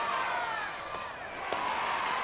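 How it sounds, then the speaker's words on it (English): Softball fans at a Nebraska vs Tennessee NCAA Super Regional game roar and yell a player's name, a dense, steady wall of crowd noise with a couple of sharp spikes. "The crowd yelling out Laura Mueller's name to make sure she secures it."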